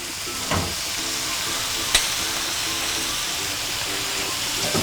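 Chopped onion frying in a pan as the base for a prawn risotto, a steady close sizzle with a soft spoon stir and a faint tap or two, no voices.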